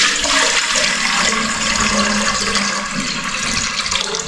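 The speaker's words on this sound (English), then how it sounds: "let me just add the water." Water rushes loudly and continuously from a container, a dense steady splash filling the whole stretch with no talk.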